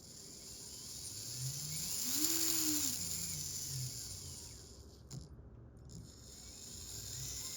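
An SCX24 RC crawler runs its motor and transmission forward and reverse, a faint, close whirring that rises in pitch, then falls, then stops briefly before picking up again at lower speed.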